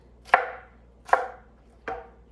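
A knife chops vegetables on a cutting board during casserole prep, three crisp, evenly spaced thuds about a second apart, close and clear with no talking.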